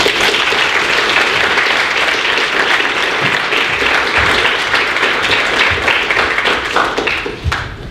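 A conference audience applauds steadily as a speaker is welcomed to the stage, dense clapping sustained for about seven seconds before starting to thin out.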